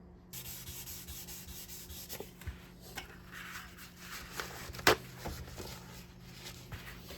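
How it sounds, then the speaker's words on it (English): Soft, steady rubbing of 600-grit sandpaper lightly sanding the neck of a 1969 Martin D-28 guitar, close and quiet, with a few light taps and scuffs along the way. "light sanding with 600 grit"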